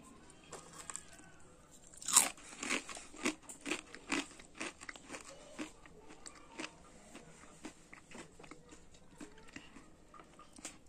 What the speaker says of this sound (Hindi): तो चलिए अब हम इसका टेस्ट करके बताते हैं कि कैसा लगता है